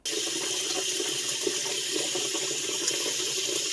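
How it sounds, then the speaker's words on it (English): Steady broadband rush of tap water running into a sink, captured on an LG V60 ThinQ phone with its ASMR recording mode on; continuous and fairly loud throughout, with no voices. "Here's some running water in the sink with ASMR on."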